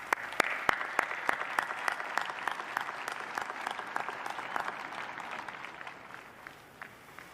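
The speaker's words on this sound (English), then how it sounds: "A round of applause for these recipients, please." Applause for honorary degree recipients at the UNC-Chapel Hill 2021 spring commencement ceremony: a crowd claps steadily with sharp individual claps standing out, thinning and fading toward the end.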